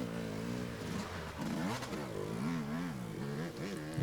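Enduro motorcycles at an endurocross race in Mansonville rev and surge with wavering engine pitch, rising and falling several times over a busy, noisy background.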